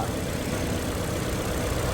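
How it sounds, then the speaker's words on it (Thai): A Ford Fiesta engine, freshly rebuilt, idles steadily with a low, even rumble, close by and continuous with no voices. "ก็เดี๋ยวจะลั่นทิ้งไว้ก่อนนะกับเครื่องยนต์คันนี้นะว่า"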